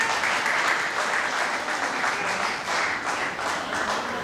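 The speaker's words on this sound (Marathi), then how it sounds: "ते तुम्ही टाळ्या वाजवताय" An audience at a Marathi book launch for a humour book breaks into sustained applause. The dense clapping holds steady and loud for several seconds, with no voices over it.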